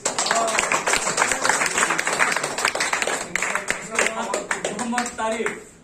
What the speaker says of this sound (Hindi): उनके लिए जोरदार तालियां प्लीज